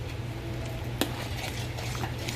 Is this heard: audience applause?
no